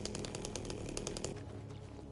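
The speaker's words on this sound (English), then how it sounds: "Could I break a glass with my chainsaw?" Chainsaw revving in the Silent Hill 2 survival horror game, a loud buzzing engine with rapid pulsing bursts that settles into a steadier drone near the end.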